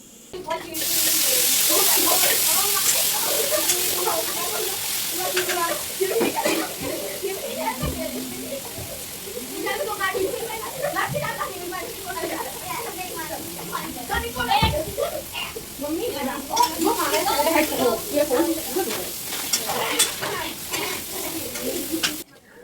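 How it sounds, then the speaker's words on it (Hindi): Hot oil crackles and sizzles in a pan as spices hit it while tempering dal, a bright hissing burst that lingers while a person talks over it. "मैं यहाँ सबसे पहले दाल में तड़का लगा दी हूँ।"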